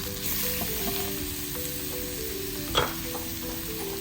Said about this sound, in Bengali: এই আমি পাশে আবার একটু খাসির গোছ রান্না বসাই দিচ্ছি কিছু মরিচ কুচি দিয়ে দিলাম